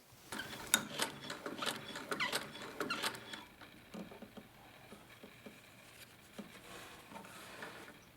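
A National A2 antique hand-cranked sewing machine stitches with quiet, uneven mechanical clicking and tapping, busier at first, then thinning out.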